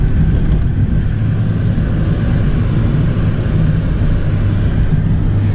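A rear-drive stick-shift car accelerates with a loud, steady low engine rumble and road drone heard from inside the cabin, continuous throughout.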